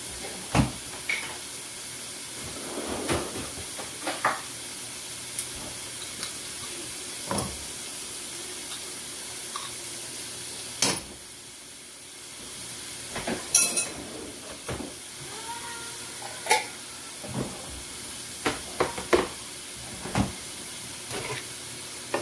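Minced garlic and Creole seasoning sizzle quietly in a pan with a soft steady hiss, broken by a few light taps and clatters of a utensil, heard alone and faint throughout.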